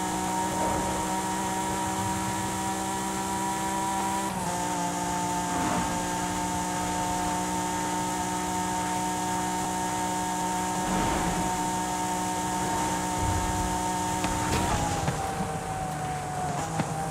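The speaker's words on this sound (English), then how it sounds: "What a nice sounding V6" A steady, droning V6 engine of an Acura NSX in Forza Horizon 5 hums at a constant pitch throughout, with a couple of brief shifts in tone as the revs change.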